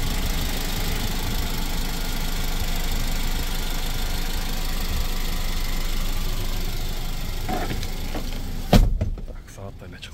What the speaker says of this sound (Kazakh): Бул жерде көргөзүп коеюн, мотордун иштеген болобу